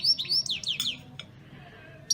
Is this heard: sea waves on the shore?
no